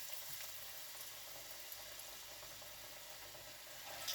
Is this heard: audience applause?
no